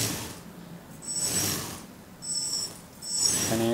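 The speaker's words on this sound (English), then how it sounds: "So here have the laser aiming for the Gatling machine gun. So this for spinning." Motorized spinning of a Gatling machine gun turret on a custom tracked model vehicle, three short whirring bursts of mechanical gear whine, close and moderately loud over a steady background hiss.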